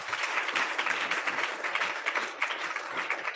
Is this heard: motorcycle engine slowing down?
no